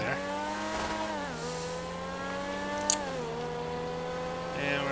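A car engine revs and shifts through gears in the video game GTA 5 Online, its tone dropping and rising in steps during late braking around a curve, with a voice talking faintly underneath.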